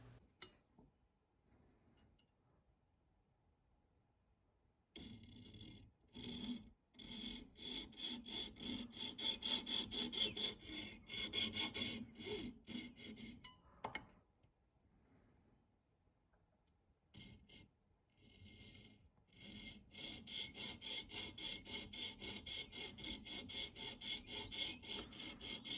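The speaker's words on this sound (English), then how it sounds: "I am creating prongs by separating each hole with a saw blade." A fine saw blade cuts prongs into a gold ring in bursts of quiet, rapid rasping strokes. Brief pauses separate the bursts, and one longer pause falls in the middle. The sawing is close and there is no talking.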